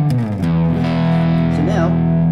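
An electric guitar on its bridge pickup, with the amp controls turned up to 10, plays a heavily distorted, sustained chord and bending notes, loud and up close, with no voices.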